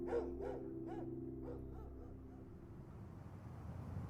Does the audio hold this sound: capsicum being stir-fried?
no